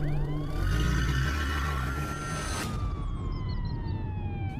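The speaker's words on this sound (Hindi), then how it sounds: "तभी पुलिस की गाड़ी सुरेश के घर आती है।" A police siren wails loudly nearby, its tone sliding in long sweeps over a low rumble of engine and road noise.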